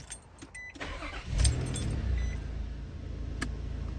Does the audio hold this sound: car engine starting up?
yes